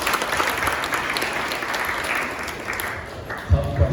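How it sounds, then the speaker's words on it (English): A crowd at a startup pitch event applauds steadily for about four seconds, a dense wash of clapping at moderate volume with no voices on top. "Round of applause."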